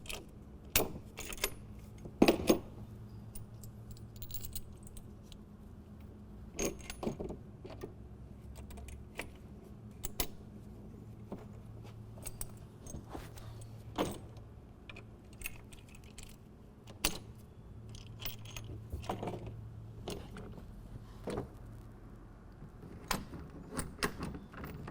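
Metal clamps are set and locked onto the bed rail of a 2023 Ford F-250 during a bed cover install, heard as scattered sharp clicks and clanks with quiet handling noise in between.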